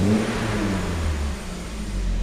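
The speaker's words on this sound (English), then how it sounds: "Give it a few revs." A Mk1 Golf GTI engine, with a failing alternator, revs up close by, a rising and falling mid-pitched roar over a steady running drone, heard alone.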